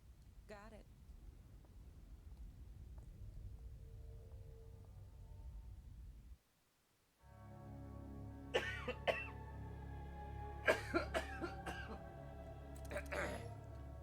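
A man coughs repeatedly, harsh rough bursts clustered late, close over game music and ambience from Devil May Cry 4, with a brief drop to near silence midway.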